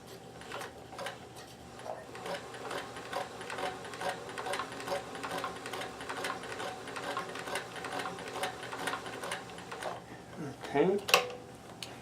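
A sewing machine runs a button-sewing stitch with a button foot, giving a steady rapid mechanical ticking for most of the stretch, then a brief louder clatter near the end; no talking.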